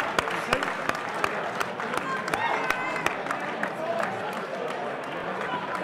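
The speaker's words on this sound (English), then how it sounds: "Both fighters deserve a round of applause there." A crowd applauds steadily after a boxing fight in Manchester, with dense clapping and a few sharper individual claps throughout, and faint chatter underneath.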